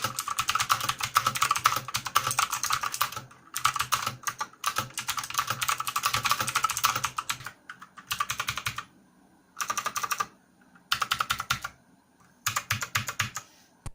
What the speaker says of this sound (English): I still love the sound of the keyboard.